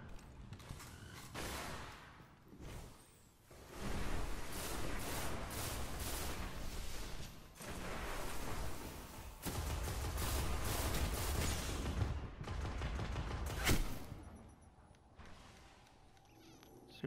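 Scatter grenades explode in a shooter video game, a dense run of crackling blasts and rattling bursts that comes in loud waves over several seconds, with heavy low rumble and brief quieter gaps between volleys, and no voices.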